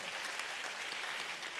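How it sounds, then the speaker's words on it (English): Applause from a conference audience, a soft, even, continuous spread of many hands clapping at a distance, brief and without distinct individual claps. "Please a round of applause."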